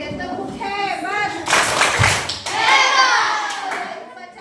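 Children in a classroom do the 'tepuk hebat' clapping routine, quick rhythmic claps in bursts mixed with young voices chanting along.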